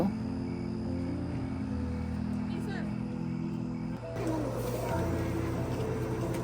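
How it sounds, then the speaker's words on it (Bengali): Crickets chirp faintly in the background at an outdoor barbecue party, a thin steady trill beneath murmuring voices and low outdoor rumble. "আর চারপাশে তো ঝিঝি পোকার শব্দ"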